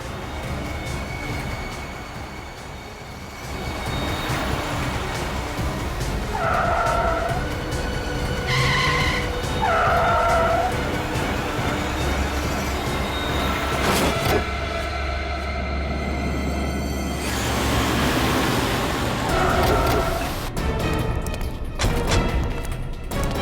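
A car driven wildly by thugs skids and roars, with sustained tire squeal and engine noise running loud and continuous throughout, punctuated by screeching bursts and rattling impacts near the end.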